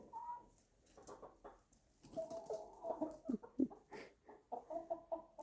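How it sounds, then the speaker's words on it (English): Chickens in a barn clucking softly and repeatedly in a steady, murmuring chatter, several birds close by but quiet, with no talk. "There's something comforting about that noise when you're out with your chickens."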